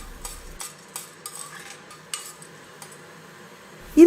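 Light scraping and clinking of a utensil stirring chana dal roasting dry in a pan, with soft intermittent taps and a faint background hiss, no talking.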